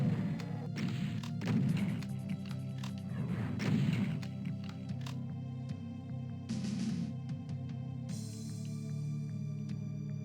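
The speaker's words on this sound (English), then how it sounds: "just using the super shotgun because it's more ammo efficient" Super shotgun blasts and thumping combat impacts in a Doom megawad map, a steady mix of heavy booms and crashes under continuous game music and ambience.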